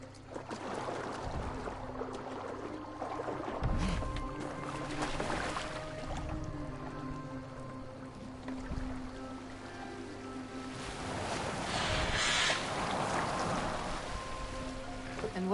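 A boat moves across water in the game Valhalla, with sloshing and lapping waves that rise and fall, plus low creaks and knocks, heard mid-distance throughout.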